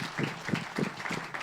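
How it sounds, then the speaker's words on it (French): A church congregation at a French-language worship service applauds together, steady mid-level clapping with rhythmic bursts over roughly a second and a half, set in a reverberant hall. "Sous vos applaudissements,"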